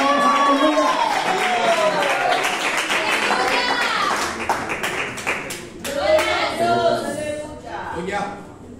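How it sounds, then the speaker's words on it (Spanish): A church congregation claps loudly together in a busy, uneven burst of applause, with voices calling out and a leader speaking over the clapping throughout. "Da un aplauso más al Señor"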